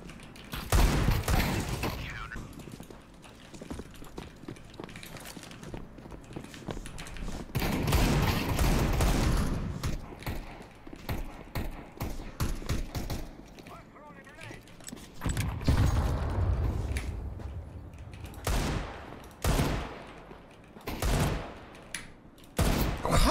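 Gunfire in the shooter Counter-Strike 2, with repeated bursts of shots coming in clusters over about twenty seconds, mixed with game noise and a voice talking over parts of it.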